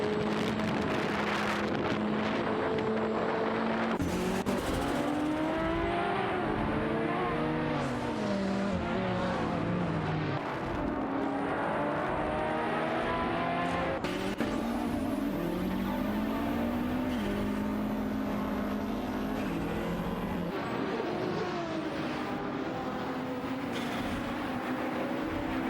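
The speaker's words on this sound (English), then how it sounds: "All four cars are vying for position, showcasing some competitive driving as they jostle for track space." Racing cars, including a Corvette ZR1, roar around the track in a video game race, engines rising and falling in pitch as they shift and jostle, with loud overlapping passes and no talk.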